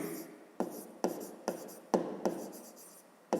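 A pen writes on paper as a math problem is worked out, close and quiet, with short scratchy strokes and soft taps arriving roughly every half second.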